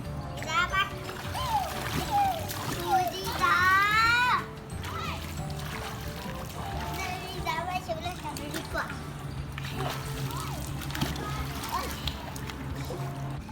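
Children splash water in a hotel swimming pool, with repeated slaps and sprays that mix with their excited shouts and chatter throughout.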